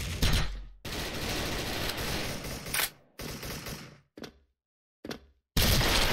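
Loud, dense bursts of rapid M4A1 gunfire ring out in Special Force, several volleys separated by abrupt silences, the last burst cutting in sharply.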